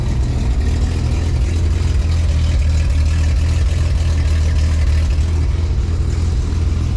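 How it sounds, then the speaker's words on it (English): Holden LX Torana engine idling cold through a newly fitted exhaust muffler, a steady, loud low rumble held throughout with no talking. "She's a little bit cold, so it won't idle great, but all in all, it's not an offensive sounding muffler."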